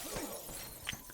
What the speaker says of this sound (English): I love the shattering effects from the Warlock Cold Pact